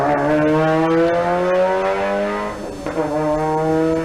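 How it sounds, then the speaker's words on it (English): A Mazda MX-5 race car at a sprint event drones loudly and steadily as its engine note slowly falls, then briefly dips before climbing again, close and continuous with no voices. "As Steve Peaty heads out in an actual MX-5, not a squashed one"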